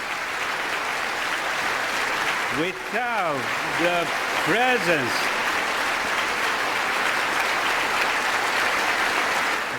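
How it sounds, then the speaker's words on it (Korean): Audience applause rolls on continuously through a speech, a dense steady clapping that keeps the speaker from continuing, while a voice briefly breaks in over it before the clapping carries on. "박수가 이어져서 연설을 못합니다."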